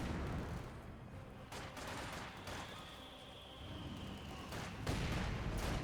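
Dense gunfire in a Company of Heroes 2 match, including MG42 machine-gun bursts near a 250 half-track, sustained crackling volleys throughout with a heavier burst near the end.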